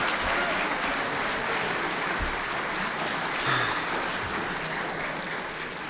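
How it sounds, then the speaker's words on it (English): A ceremony audience gives a quick round of applause for guests at a military institute's yearling turning event, steady and moderately loud throughout with no speech. "let's give them a quick round of applause"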